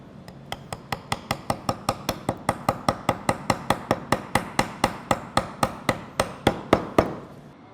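A mallet strikes a chisel while a wood mortise is cut by hand, about twenty-five sharp, evenly spaced knocks in a steady rhythm, close and clear with no talk.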